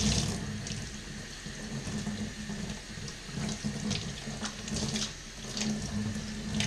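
Tap water runs steadily from a faucet into a sink, rinsing polish off a cymbal after a cleaning with Barkeepers Friend; a continuous close splashing hiss with slight surges and no talk.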